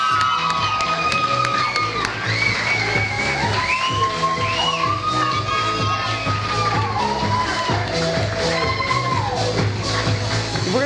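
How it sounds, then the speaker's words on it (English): An audience at the Pure Romance Australia Awards 2013 ceremony cheers loudly, with whoops and shouts rising over a dense, continuous crowd roar that lasts throughout. "Would you give them a big round of applause?"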